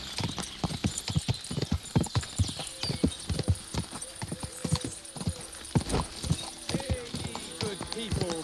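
Horse hooves clip-clop steadily in Kingdom Come: Deliverance II, a medieval role-playing video game, a close, rhythmic series of hoofbeats with an occasional whinny, while someone talks over them.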